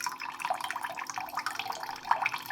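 Water from a freshly cracked coconut trickles and splashes in a steady, faint stream, close by with irregular drips, and no talking.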